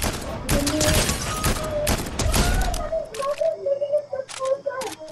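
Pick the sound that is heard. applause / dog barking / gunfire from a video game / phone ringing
gunfire from a video game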